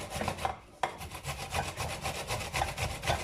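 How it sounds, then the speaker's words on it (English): Fresh ginger is scraped by hand for a hair oil, a close, rhythmic rasping with repeated short strokes and a brief pause near the start, no voices. "It's the ginger I am scraping right now."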